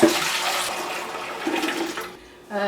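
Afghan qaimak milk tea pours from a height in a steady, continuous splashing stream, close and fairly loud, then briefly cuts off before resuming.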